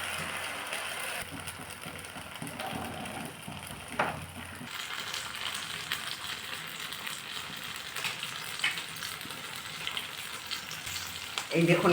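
Vegetable sooji pancakes fry in oil in a pan, giving a steady close sizzle and crackle that runs throughout, with a few brief clinks of a utensil.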